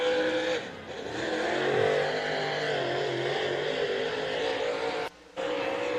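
Race cars roar around the oval at Wartburg Speedway, a steady loud engine drone with pitch rising and falling as cars circle, one briefly dropping out near the end.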